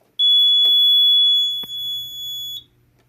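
A Simplex 4004 fire alarm panel sounds during a walk test, emitting a loud, piercing steady high-pitched tone for about two and a half seconds before cutting off abruptly.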